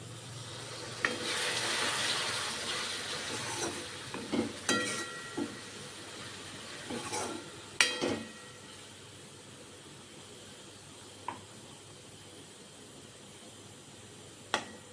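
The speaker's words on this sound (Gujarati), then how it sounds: "ત્યારબાદ થોડુંક પાણી એડ કરશું" Water poured into a pan of bitter gourd curry, a rushing splash for a few seconds followed by scattered clinks and taps of utensils against the cookware, close up with no talk.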